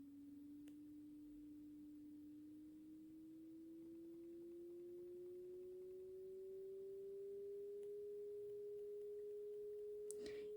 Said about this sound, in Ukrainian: Ідеальний камертон зробимо.